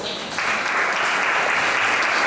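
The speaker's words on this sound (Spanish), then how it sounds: "Un fuerte aplauso, por favor." An audience at a panel discussion on tourism breaks into applause, a dense wash of clapping that swells quickly and holds steady throughout.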